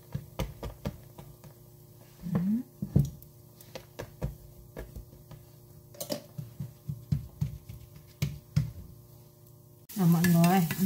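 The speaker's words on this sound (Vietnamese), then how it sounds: "em xào tỏi trước mọi người" Garlic sizzling as it is stir-fried in a pot, with steady crackling frying and repeated clinks and scrapes of a utensil stirring, closing on a louder burst of sizzle.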